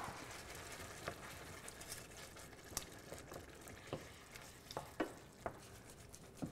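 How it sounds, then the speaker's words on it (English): Crushed canned tomatoes go into a pan of chicken cacciatore on medium-low heat, giving a faint steady sizzle broken by scattered soft clicks and stirring taps. "I'm gonna add a few canned tomatoes that I just crushed lightly with my hand"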